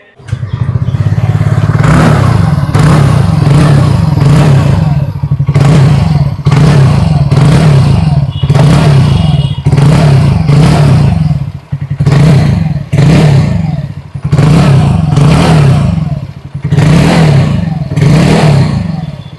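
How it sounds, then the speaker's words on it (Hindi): A 2025 TVS Ntorq 125 Race XP scooter engine revs loudly and repeatedly, the exhaust rising and falling in bursts with short pauses between throttle blips, close to the microphone. "आइए अभी सुन लेते हैं इस स्कूटर की एग्जॉस्ट नोट।"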